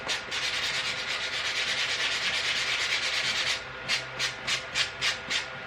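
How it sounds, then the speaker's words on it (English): Sandpaper rubs rust off the can of a brushed RC 540 motor, a long continuous abrasive scrape that breaks into a run of short, rhythmic back-and-forth strokes, loud and close, with no talking. "Just sand all the rust off it."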